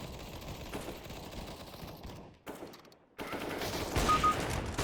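Gunfire from the video game CS:GO comes as dense bursts of rapid shots, then a brief near-silent gap, then a louder sustained burst toward the end. No one speaks.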